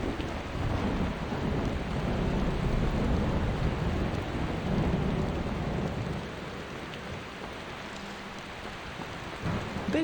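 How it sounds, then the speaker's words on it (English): Steady heavy rainfall with rolling thunder in the Skyrim video game, a dense continuous wash of rain hiss and low rumbling, loud and unbroken with no voices. "Don't you just love a bit of rain?"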